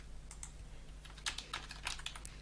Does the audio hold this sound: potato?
no